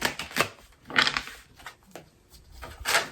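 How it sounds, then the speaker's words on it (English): Tarot cards shuffled by hand during a reading, producing a few short, soft riffling bursts separated by quiet gaps, close and fairly faint with no talking. "shuffle these first."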